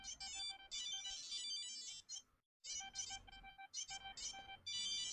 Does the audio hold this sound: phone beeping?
yes